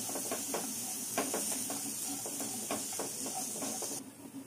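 Peas and spices roast in a pan over a low flame, giving a soft steady sizzle and hiss broken by repeated light scraping stirs, close and quiet, with the hiss easing near the end.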